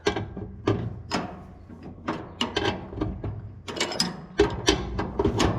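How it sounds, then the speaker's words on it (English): Mechanical clattering and ratcheting from a wrench running down a bolt on a Gleaner R72 combine, a close, irregular string of sharp metallic bursts and rattles over about five seconds. "We'll take it, run it down at the impact."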